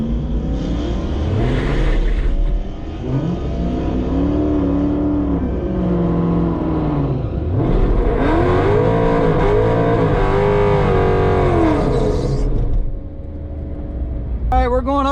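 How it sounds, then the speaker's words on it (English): Engines roar through two launches and runs in a bracket-class drag race against a Dodge Hellcat at the Modern Street Hemi Shootout at Virginia Motorsports, pitch sweeping up and dropping with each gear change, loud and close, with voices faintly underneath. "we're in the second round of the bracket class, timed run. We're going up against the Hellcat"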